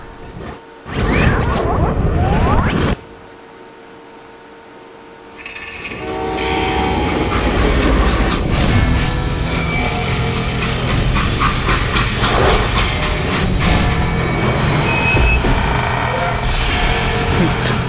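A freight train in the Western video game Call of Juarez Gunslinger sounds its horn near the start, then rolls on with a loud, continuous rumble and clatter of rail cars, with some voices faintly under it.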